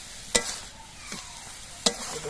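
Fenugreek greens with potatoes fry in a pan under a soft continuous sizzle, broken twice by sharp scraping clacks of stirring about a second and a half apart, close and fairly quiet, with no talk.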